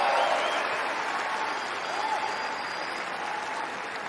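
Crowd applause and cheering at the Australian Open in Melbourne, a dense sustained wash of clapping that holds steady then slowly eases off, fairly close and without clear speech over it.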